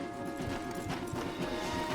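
Horse hooves clip-clop in Red Dead Redemption 2, a steady run of quiet, close hoofbeats over a low ambient bed with no voices.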